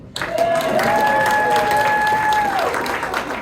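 Broadband audience applause fills a comedy show venue, loud and steady for a few seconds. A sustained tonal sound runs through the middle of it.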